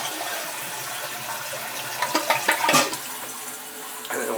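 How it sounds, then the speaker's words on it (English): Water backs up out of a clogged home drain and overflows, a continuous rushing wash that swells into louder splashing gushes midway and again near the end. "See the flipping water overflowing, running everywhere."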